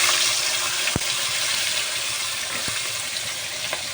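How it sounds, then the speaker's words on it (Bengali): Cut potatoes fry in hot oil, a dense, loud, even sizzle and crackle filling the whole stretch, with a couple of faint knocks of a utensil. "ওই তেলের মধ্যে দিয়ে দেবো কেটে রাখা আলু"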